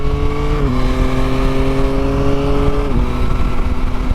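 A Yamaha Tracer 9 GT motorcycle engine revs hard and steady, its pitch dropping in two quick steps as the quickshifter changes gears, loud and close throughout.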